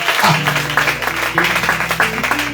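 A church congregation applauding after a baptism presentation: steady, fairly loud clapping from many hands, with music or voices faintly underneath.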